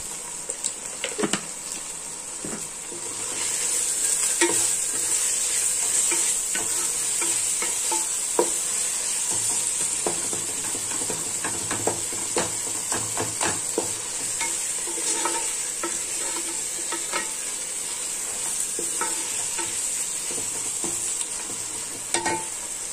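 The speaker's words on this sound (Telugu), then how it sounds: "ఇప్పుడు ఇదంతా బాగా ఫ్రై అవ్వాలండి. మసాలా అంతా మనకి బాగా ఫ్రై అయిపోయాలి." Tomato masala with salt frying in a pan, a continuous bright sizzle with repeated spoon scrapes and stirring knocks at an uneven rhythm, close and fairly loud throughout.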